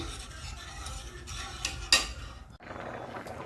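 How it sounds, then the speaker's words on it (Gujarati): A spoon stirs boiling milk in a pot while making carrot halwa, soft continuous scraping and swishing with a brief clink against the pot, faint and steady with no talk. "આને સતત હલાવતા રહેવું પડશે, નહીં તો ચોંટી જશે નીચે"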